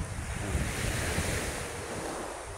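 Sea waves wash onto a beach at a busy swimming spot, a continuous broad roar of surf with wind noise buffeting the microphone, steady and fairly loud with no voices.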